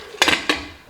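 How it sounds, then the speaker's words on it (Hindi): A metal pressure cooker lid set down and clicked into place, two sharp close metallic clanks with short ringing tails, in a kitchen while making macaroni pasta. "कुकर का ढक्कन लगाएं।"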